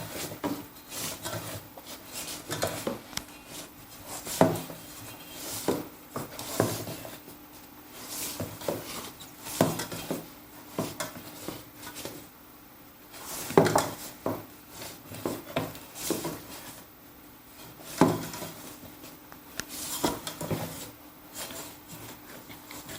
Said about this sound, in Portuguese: Se passa a mão e sentir ainda o sal, é sinal que tem que sovar mais ainda.